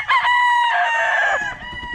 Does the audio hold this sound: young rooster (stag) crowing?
yes